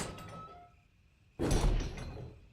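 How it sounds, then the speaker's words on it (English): Doors opening in a Resident Evil game: quiet ambient tones fade, then a sudden heavy mechanical sliding-door clunk bursts in and decays into a low rumble. "Like, did you hear those doors opening?"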